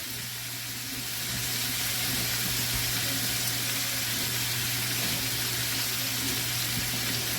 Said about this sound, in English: now that we're achieving a nice little simmer